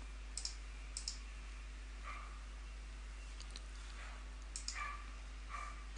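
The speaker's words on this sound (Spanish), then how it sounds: "Vamos a hacer clic ahora" A computer mouse clicking in short, crisp pairs and single taps, scattered irregularly across a quiet room with a steady low hum behind.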